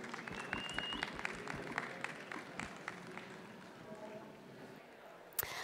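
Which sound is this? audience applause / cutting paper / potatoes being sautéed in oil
audience applause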